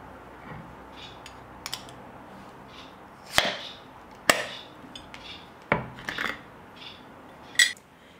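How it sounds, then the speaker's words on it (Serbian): A glass jar of preserved cooked rice meal being opened, with a few sharp clicks and knocks of the lid and glass scattered over quiet room tone, close by and with no talking. "A mi ćemo sad otvoriti jednu da vidimo kako to izgleda."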